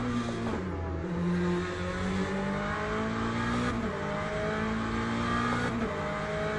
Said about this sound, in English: Sounds like a European V8.